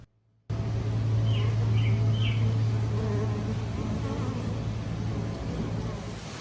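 Honey bees fly around and into a swarm trap, their buzzing hum steady and fairly close after a brief silence, with a few faint bird chirps in the background.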